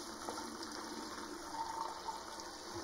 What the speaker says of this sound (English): In goes our water.